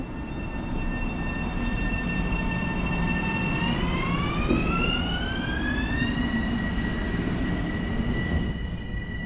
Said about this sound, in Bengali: ট্রেন ছেড়ে দিল